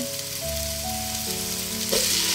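Chopped onion going into a hot pan for a Filipino chicken pochero stew, with tomato following, frying with a steady close-up sizzle and a brief stir near the end.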